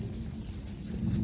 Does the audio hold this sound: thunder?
yes